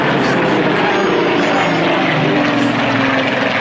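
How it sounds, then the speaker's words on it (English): A Hawker Hurricane fighter leads another fighter over the Clacton air show, its propeller engine a loud, steady, full roar sustained throughout, close overhead. "And it is the Hurricane that's leading the 2 fighters there."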